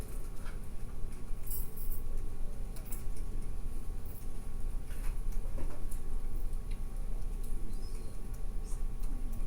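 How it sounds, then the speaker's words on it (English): Light plastic calculator key taps click irregularly over a steady low background hum, with a few sharper clicks standing out. "The sound of calculator keys, it's so soothing."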